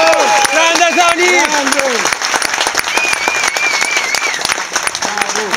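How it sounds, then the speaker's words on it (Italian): Loud, sustained audience applause fills a live rock concert, with cheering voices and shouts rising over the dense clapping at the start before it settles into steady applause. "Un applauso speciale a un compagno ormai sui palchi da più di 20 anni"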